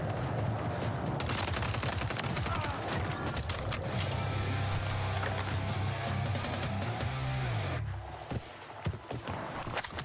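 Sustained gunfire from the shooter game Black Ops 6, a dense stream of loud shots and bursts running almost continuously, easing off briefly near the end over game background noise.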